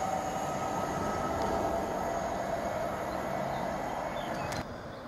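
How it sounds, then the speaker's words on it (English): A Stadler FLIRT passenger train, unit 755412, pulls away from platform 1 at Stowmarket station on a service to Ipswich. Its steady, rumbling drone holds at an even level throughout, close and continuous, with no voices over it. "FLIRT 755412 has departed our platform 1, working 1147 service to Ipswich."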